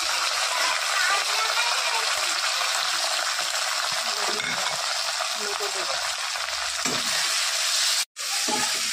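Ground spice paste frying in hot oil with bay leaf and five-spice seeds for an Indian dish, a dense continuous sizzle up close that cuts out briefly near the end.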